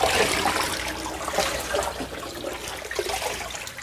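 Seawater poured into cooked soy milk in a pot while making Chodang tofu in Gangneung, a close continuous splashing and gurgling pour with no talk.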